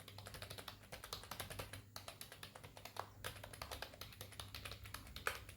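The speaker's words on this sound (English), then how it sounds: "Not only mouse, we can connect the wireless keyboard also. I'll type something in this URL." A wireless keyboard connected to a Samsung phone in DeX mode is typed on in quick, irregular bursts of close, light key clicks with brief pauses between, over a faint low hum.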